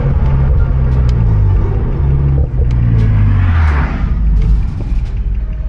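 Tuned six-speed manual Infiniti G37S coupe driving, its engine a steady low rumble heard from inside the cabin throughout, with a brief rise in revs partway through and no talk.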